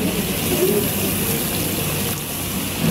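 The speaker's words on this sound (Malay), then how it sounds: "Kita dah nak masuk sikit air asam jawa." Tamarind water is poured into a cooking pot of chicken in red coconut gravy, a steady close rushing splash lasting a few seconds without talking.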